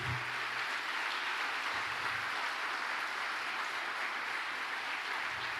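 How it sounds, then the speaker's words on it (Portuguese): A church congregation applauds during a sermon, a steady wash of many hands clapping that holds evenly at moderate loudness for several seconds with no voices over it. "Você pode aplaudir Jesus?"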